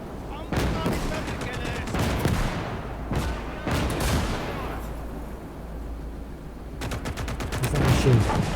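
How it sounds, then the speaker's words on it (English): Machine gun fire from the Finnish front in the RTS game Gates of Hell: several loud rapid bursts of automatic gunfire with a few heavier reports, set against a constant battlefield rumble, with a faint voice talking underneath. "Machine gun on the front"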